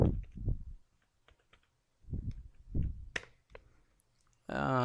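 Computer keyboard typing a localhost address: sparse, faint key clicks sit among a few muffled low thumps in a quiet room.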